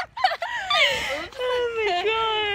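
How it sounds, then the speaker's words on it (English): A crowd of pigeons or similar birds in a busy outdoor tourist spot near a famous theater, their calls and fluttering mixed with people talking and exclaiming nearby. "Dude, there's a lot of birds."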